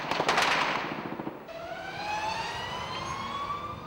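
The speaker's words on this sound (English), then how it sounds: "a police car risks more withering American fire to make a dash for a hospital" A police car in wartime Baghdad races toward a hospital, its wailing siren rising and sweeping after a burst of sharp cracks like gunfire. The siren is loud and fairly near.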